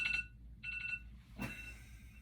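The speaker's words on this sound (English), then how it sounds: "We got the alarm going on." An electronic alarm beeps in two short bursts of rapid high-pitched tones separated by a pause, followed by a brief broadband thump, all at moderate volume with no talking.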